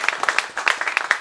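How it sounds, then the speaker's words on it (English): Applause at a Marin County supervisor candidates' event, a short burst of crisp, distinct hand claps from a modest audience, fairly close and clear with no talking. "I thought we ought to actually give him a big round of applause right now."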